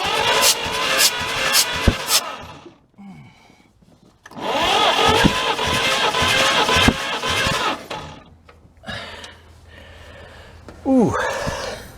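Gasoline engine turning over on its starter during a compression test on a cylinder, heard in several loud sustained cranking bursts separated by pauses, with a voice speaking in between.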